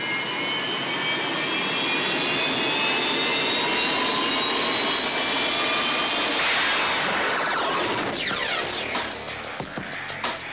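Formula race boat engines roar steadily at a provisional heat of Thunder on the water, a loud sustained whine with rising pitch that breaks into choppy, fluttering pulses near the end.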